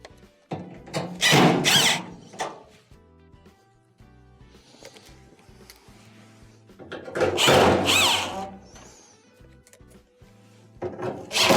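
Screws being driven back into the panel of a clothes dryer during a thermal fuse repair: two loud bursts of power driving a few seconds apart, with quieter handling clatter between them.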